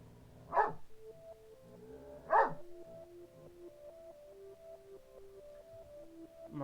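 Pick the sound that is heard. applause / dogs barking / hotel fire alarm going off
dogs barking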